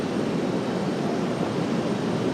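A JetBlue airliner in NYPD livery, arriving from Charlotte at an airport, gives off a steady broadband jet roar, loud and even throughout with no voices.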